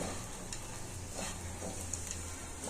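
Bitter gourd fry sizzles steadily in a pan while a spoon stirs it, soft scraping strokes recurring over a constant close frying hiss and low hum.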